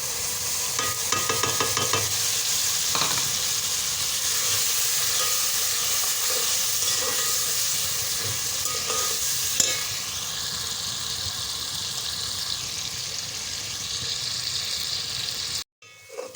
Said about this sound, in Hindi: लहसुन अदरक प्याज के साथ अच्छी तरह फ्राई हो गए हैं।